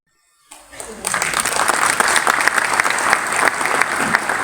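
Audience applause at a future leaders' forum in Oujda, starting after a brief silence and swelling into steady, dense clapping that holds loud to the end.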